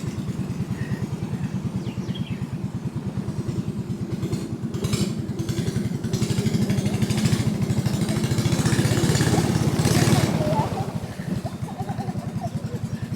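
Motor boat on the Tapi River in Surat Thani, Thailand: a close, loud, rapidly chugging engine with an even pulsing rhythm that swells for a few seconds midway, then settles back.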